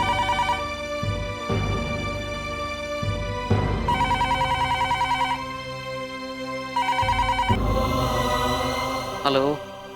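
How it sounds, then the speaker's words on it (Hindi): A telephone rings loudly in repeated bursts with short pauses between them. Dramatic background music plays underneath, and a short tone sounds near the end. "सुधीर, हाँ, किसका फोन है?"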